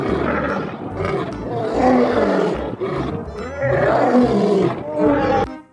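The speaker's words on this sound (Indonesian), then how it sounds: "Wow, wow, ada singa." A lion in a video game roaring loudly and close, long rumbling growls swelling and fading in a couple of waves.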